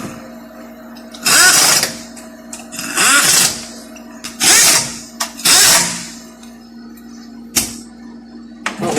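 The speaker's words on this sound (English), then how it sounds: "Set the impact drill to the low pressure." An impact drill set to low pressure works during an automatic transmission rebuild on a 6L80/85, running in several loud whirring bursts of about a second each with a steady mechanical hum between them.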